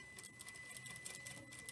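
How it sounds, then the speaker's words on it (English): A sewing machine stitches fabric while a double mitered corner is sewn, giving a quiet, steady rapid ticking rhythm close by. "have my sewing machine over here, and I'm going to sew from"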